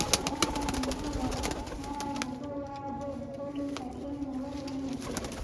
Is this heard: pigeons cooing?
yes